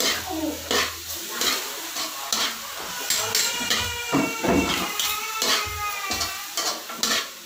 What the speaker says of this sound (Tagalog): Halo natin, halo